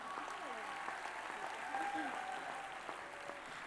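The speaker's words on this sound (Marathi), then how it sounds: "प्रेक्षक हो, या वानर सेनेसाठी जोरदार पुन्हा एकदा टाळ्या होऊ देत." Audience at a school annual gathering staging a Ramayan performance applauds in a dense, continuous wash of clapping that holds steady throughout, with a voice speaking faintly over it.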